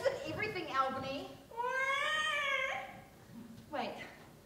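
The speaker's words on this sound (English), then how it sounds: "Was that a cat mewing?" A cat mews several times: drawn-out, wavering cries, one long and rising, then a shorter one. They sit close and clear, with a voice faintly mixed in.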